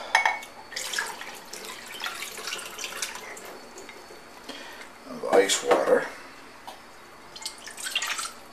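Ice cold water poured from a cup into batter in a home kitchen, a soft, faint splashing trickle with a brief louder pour midway, under quiet talk.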